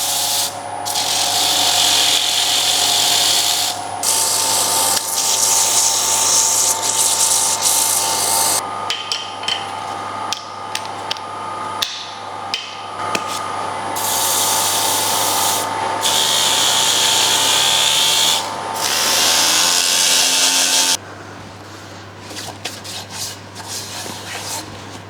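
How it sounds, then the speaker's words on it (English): A Pro Sander works over a wooden platter during woodturning, stepping through 240 and 320 grit: a steady, loud abrasive rubbing and whirring that runs almost continuously, with brief pauses and changes in pressure and no talk. "So we're going to sand with the Pro Sander."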